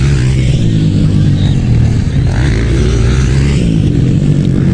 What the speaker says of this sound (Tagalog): Grabe ang liparan ng mga motor nila, mga idol!